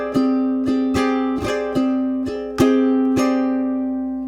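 Acoustic guitar strummed in a fingerpicking-style pattern, sounding a ringing chord with steady strokes that ends on two closing down strums, played alone at close range.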